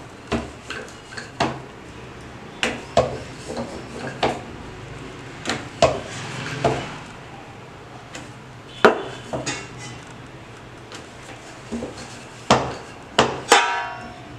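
Chapati dough for aloo paratha being patted out by hand on a dusted surface, a series of irregular sharp slaps and knocks spaced through a quiet kitchen background.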